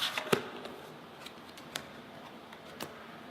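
A deck of playing cards shuffled at a poker table, with a sharp riffle burst near the start followed by a few faint card snaps and rustles over a quiet background.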